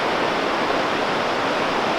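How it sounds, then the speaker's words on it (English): Steady, loud broadband roar of a large river rushing at Mount Rainier National Park, continuous and close with no pauses or voices. "God, we have a giant river here."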